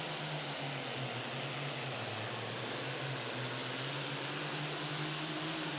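A modified pulling tractor named Bleeding Green makes a steady, loud engine roar with a low droning hum throughout a run at a 2014 Pro Pulling League event in Hillsboro, Wisconsin, heard from a distance.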